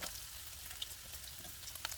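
Garlic sizzles in a hot pan for curry, a steady crackling fry with occasional small pops, close and fairly quiet, with no voices.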